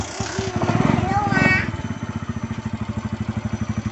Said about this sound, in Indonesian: Kita hidupkan motor terlebih dahulu